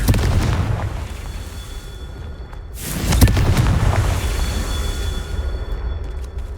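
A Confringo fire spell explosion in Hogwarts Legacy bursts as a sharp, loud blast partway through, then rumbles and crackles away over steady low background noise, with no one talking.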